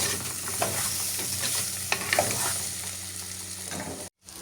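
Baby potato curry sautéing in a pan with a steady soft sizzle, broken by scraping and clicking spoon stirs, then a brief cut to silence near the end.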